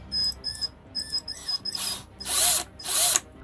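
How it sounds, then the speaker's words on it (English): A power drill bores into the leg of a custom McFarlane Toys Peacemaker action figure, whining in short spurts that end in louder, harsher grinding bursts, close and with no talk. "we're going to drill right into his leg here"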